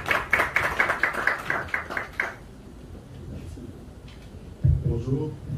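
Audience at a conference given by an ambassador in Belgium claps in a quick rhythmic burst for about two seconds. The clapping then fades into a quiet room, and a voice begins speaking near the end.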